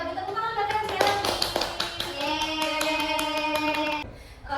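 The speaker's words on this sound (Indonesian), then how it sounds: "Kita tepuk tangan belakang sekali lagi." Schoolchildren in an elementary classroom clap hands together, a burst of sharp, irregular claps close by, mixed with bright tonal sounds and children's voices, then fading out abruptly near the end.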